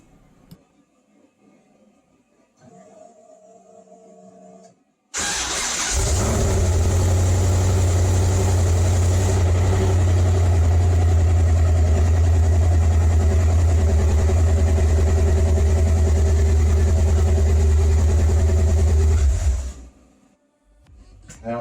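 An LS V8 swapped into a Porsche 914 cranks on a new high-torque starter and fires up, then runs at a loud, steady idle close by for about fifteen seconds before shutting off.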